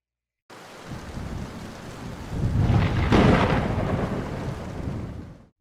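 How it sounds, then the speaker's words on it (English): Evening rain falls steadily over a small coastal town's streets while a thunder rumble swells in the middle and slowly fades, loud and close, with no voices. "Evening rain peppered the streets of the small coastal town of Harrow's Point"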